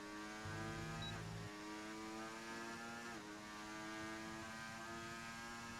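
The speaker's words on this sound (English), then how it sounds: "Love the sound of the engines in this game." Racing car engines in a motorsport video game at the Autódromo do Algarve circuit drone as a faint, steady tonal whine, dipping in pitch twice as if shifting gear, with no talking.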